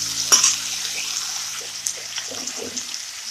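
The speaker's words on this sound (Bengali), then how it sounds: "আলুগুলো ভালো করে ভেজে নিচ্ছি" Potatoes fry in a pan for an Indian dahi paneer dish. A steady, close sizzle carries through with a sharp clink near the start and a few soft scraping knocks later, with no voices.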